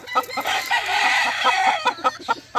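A gamecock crows loudly and close by, one long drawn-out call, with clucking bursts from the bird before and after it.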